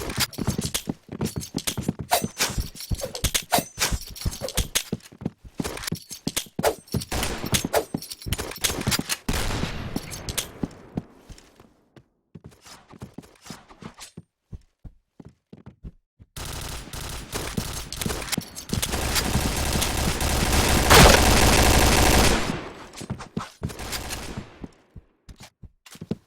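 Gunfire in the Point Blank online shooter game, with dense rapid bursts of close, loud automatic shots, a short quiet gap, then a sustained roaring volley with more shots, and no talking.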